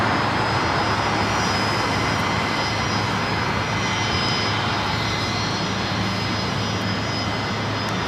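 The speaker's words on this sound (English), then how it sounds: "There goes that SkyWest Charter CRJ taking off there on the north side." A SkyWest charter CRJ jet takes off from the north side of LAX in challenging weather, a loud, sustained engine roar with a steady high whine rolling across the airport.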